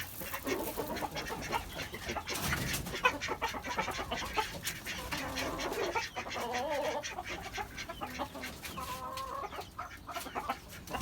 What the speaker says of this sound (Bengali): সে খাবারগুলো আসলে এই কবুতরগুলাই খায়